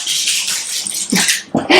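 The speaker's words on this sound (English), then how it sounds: "Sorry about my dog. She's screeching now." A pet dog screeches close by, a high, piercing whine that rises and breaks into sharp yelping bursts toward the end, loud and alone.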